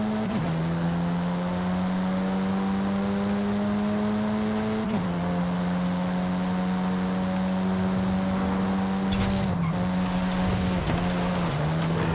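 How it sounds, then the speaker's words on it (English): Race car in Forza Horizon 5 on a cliffside ringroad speed zone, engine holding a steady high whine with shifts and brief tire skid squeals near the end, loud and close without talk. "This car really grips the road, really solid."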